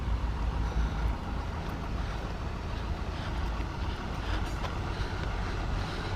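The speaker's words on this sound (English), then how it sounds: "The water truck delivering the agua pura." A water truck delivering purified water rumbles along a street in the Lake Chapala area of Mexico, a steady low engine drone with road noise and some wind buffeting, close and continuous throughout.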